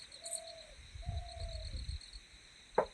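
Birds call from trees in Uttarakhand, a soft dove-like coo and thin drawn-out whistled notes over a steady insect hum, with a sharp brief chirp near the end, faint and somewhat distant.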